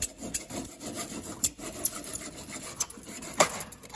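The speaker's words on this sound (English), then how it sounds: "I'm just gonna use a hacksaw and come down vertically along the magnet." A hacksaw cutting vertically through a plastic speaker connector beside the magnet, quiet irregular rasping strokes at close range, alone without talk.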